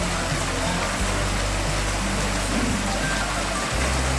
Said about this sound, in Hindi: ये देखो बरसात के हाल